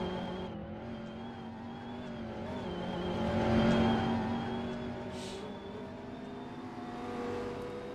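A race car in a sim racing game drives down the back straightaway at the Turkish GP, a steady whining engine drone that swells in pitch and loudness toward the middle and eases off, fairly faint and alone.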